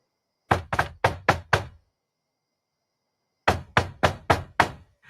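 Knuckles rap on a door in two quick bursts of five firm knocks, separated by a few seconds of silence, close and clear with no voices.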